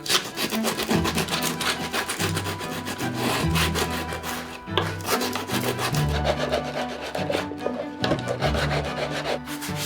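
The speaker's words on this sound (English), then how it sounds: "I'm just going to soften the sharp edge of the rim here" The sharp rim edge of a planter being sanded down by hand: steady, close rasping strokes in a continuous back-and-forth rhythm, loud and alone with no voices.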